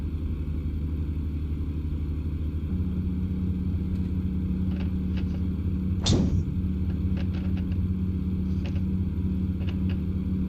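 A truck in American Truck Simulator rolls over a bumpy road, its engine giving a steady low rumble and drone while faint knocks and rattles come through, with one sharper jolt partway through and no talk.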